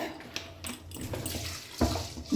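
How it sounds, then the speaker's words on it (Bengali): Rice being washed by hand in water, uneven splashing and sloshing with a few louder swishes, close and moderately quiet, with no speech. "তো এই যে এখন দেখো ভালো করে ধুয়ে নিচ্ছি আর অতটাও জলটা খারাপ বেরোয়নি এই চাল ধোয়ার জলটা আমি রেখে দেব"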